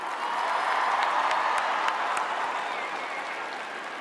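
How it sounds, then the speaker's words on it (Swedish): Dense, sustained applause from a large audience fills an arena at a tribute concert for Avicii, steady and loud throughout with a few sharper claps standing out, and no talking over it. "håll i den här applåden"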